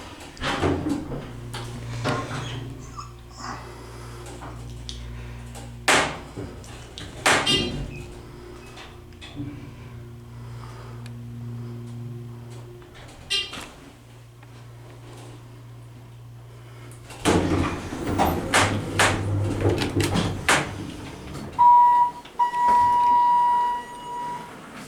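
Dover Impulse hydraulic elevator at a Comfort Inn runs with a steady low hum, punctuated by door clunks and thumps, then a rising whir and a brief chime near the end, with faint speech in places.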